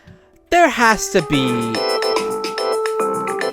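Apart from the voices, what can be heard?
mobile phone ringtone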